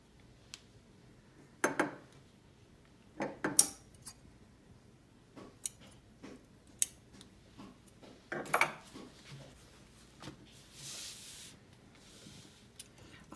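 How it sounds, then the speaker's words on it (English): Scissors snip threads short on sewn waterproof fabric, a series of sharp, close clicks and snips spaced irregularly, with soft handling rustles and a brief spraying hiss near the end in a quiet room. "Because I've overstitched, I'll cut the threads nice and short."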